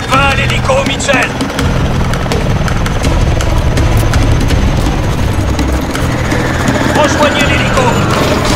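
A military helicopter in Call of Duty: Advanced Warfare drones steadily with a dense rotor and engine roar, loud and continuous throughout, layered with combat game noise.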